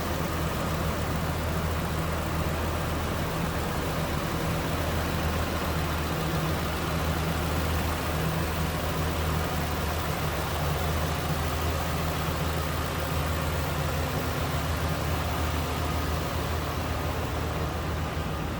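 A 2006 Ford F-250 Super Duty's 5.4-liter Triton three-valve V8 idles steadily, a constant low rumble with broadband hiss that holds evenly throughout, with no talking.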